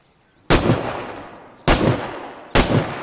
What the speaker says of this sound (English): with the suppressor off, it sounds pretty badass, too